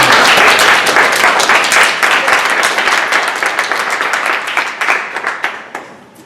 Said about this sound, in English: please join me in a great round of applause.